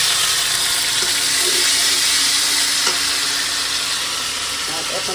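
Spice paste sizzling loudly as it fries with onion and garlic for a prawn pithali curry, a dense continuous hiss up close with faint clinks of stirring.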